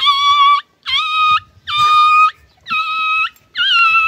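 A person's voice imitates a dog whimpering and howling in five drawn-out, high, wavering cries, each about half a second long with short gaps between them, close and loud.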